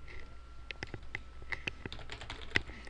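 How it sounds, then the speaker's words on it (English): Rapid typing on a computer keyboard clatters close by in a quick run of separate key clicks, with no voices. "So I'll just type in the word referral"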